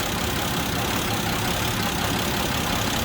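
A 1927 Hupmobile four-door's engine idles in a steady, even drone heard up close in the engine bay, loud and unbroken with no voices over it.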